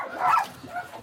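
Dogs from a hoarding house yelp and whimper in short bursts, fairly close, with a brief yip at the start and fainter cries after.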